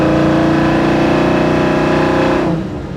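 A 1972 Chevrolet Nova SS with a small-block V8 accelerating hard, a loud close engine roar with a rising rumbling tone that swells and then drops away near the end.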